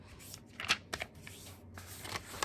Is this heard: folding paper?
yes